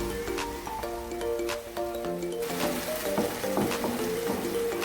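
Ginger garlic paste sizzling in hot oil in a karahi for chicken karahi over a high flame, a steady close crackle broken by scrapes and stirring clatter, with no talk.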